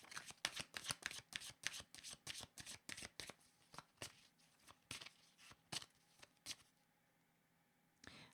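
A deck of tarot cards shuffled by hand, a quick run of crisp riffling bursts close up that slows to a few separate flicks and then a pause before one last shuffle.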